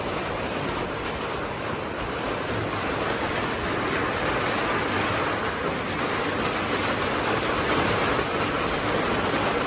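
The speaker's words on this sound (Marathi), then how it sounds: "बघा पाऊस पण सुरू झालेला आहे बाहेर." Rain patters steadily on tin roof sheets outside, a dense, even wash of drops that holds unbroken and fairly loud throughout, with no voices.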